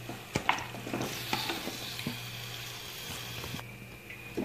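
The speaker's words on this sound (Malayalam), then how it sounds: "ഇതിലേക്ക് ചിക്കൻ പീസ് ഇട്ട് നന്നായിട്ടൊന്ന് പുരട്ടി വിട." Chicken pieces are stirred with tomato in a clay pot, giving a soft continuous sizzle broken by several wet scraping and squishing stir strokes close by, with no talking.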